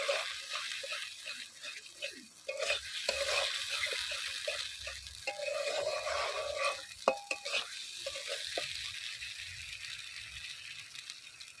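Prawns going into hot spiced masala that has released its oil, for a banana-flower prawn malai curry, with a soft sizzle under intermittent scraping and stirring of a spoon in the pan.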